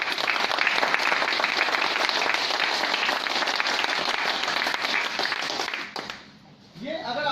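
Sustained loud applause from an audience fills most of the stretch before tapering off abruptly, followed by a voice beginning to speak.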